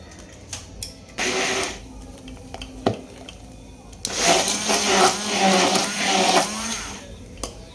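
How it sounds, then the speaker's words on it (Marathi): An electric blender whirs as it blends a paan shot drink with sugar and vanilla ice cream. A short burst comes first, then a longer steady run, with faint clatter in the pauses. "ब्लेंडरच्या साहाय्याने आपण याला असं छान फेटून घेतो आहोत"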